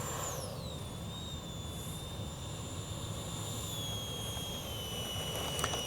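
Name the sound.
E-flite 64mm Viper RC jet flying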